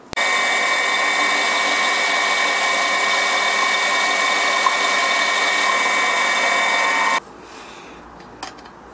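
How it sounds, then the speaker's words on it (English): Power drill boring holes with an 8mm bit in a small workshop, a steady loud whirring drone that runs unbroken for about seven seconds, then stops abruptly, leaving quiet room tone with a faint tap. "So I'll need to drill out my holes with an 8mm bit."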